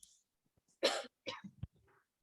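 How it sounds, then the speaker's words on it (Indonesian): A couple of harsh coughs and a throat clearing, close to the listener, separated by short pauses in an otherwise quiet room. "Mohon maaf agak batuk ya."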